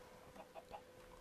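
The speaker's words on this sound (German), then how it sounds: "Kann ich diese Hühner füttern?" Minecraft chickens cluck softly in a few short, quiet calls spaced about a fifth of a second apart, set against faint background ambience.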